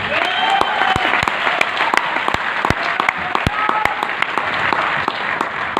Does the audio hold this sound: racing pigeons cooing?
no